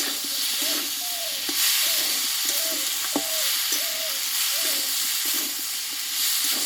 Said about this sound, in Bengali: আমি তেলে কিন্তু তিনটে শুকনো লঙ্কা দিয়েছি